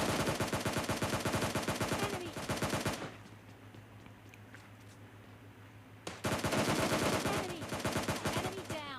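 Rapid automatic gunfire rattles loudly in PUBG Mobile Lite, bursts of shots for a few seconds, then a quiet pause with low hum before another heavy volley of fire resumes.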